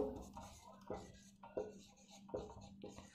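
Chalk or marker strokes scratch across a classroom board during a lesson, coming in short rhythmic bursts with a faint steady hum underneath and no speech.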